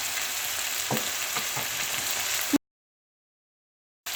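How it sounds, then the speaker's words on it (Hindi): Keema frying in a pan with salt and spices gives a loud, close, continuous sizzle with a few stirring scrapes, then cuts to a sudden silence before the sizzle resumes briefly at the end. "कुटी हुई लाल मिर्चें, साबुत धनिया ये डालकर फ्राई करूंगी।"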